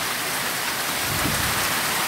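Steady rain mixed with small salt-and-pepper hail falls outdoors after a long dry spell, a dense continuous hiss and patter close by, with a faint low rumble swelling briefly near the middle.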